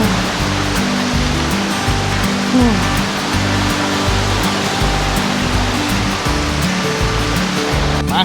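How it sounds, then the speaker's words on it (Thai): Huai Krathing waterfall in Thailand roars close by, a constant heavy rush of falling water filling the whole scene without letup. "น้ำตกห้วยกระทิงหรือน้ำตกมูเซอร์นะครับเนี่ย"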